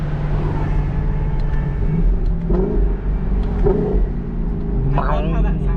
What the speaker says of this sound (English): They did such a good job with the exhaust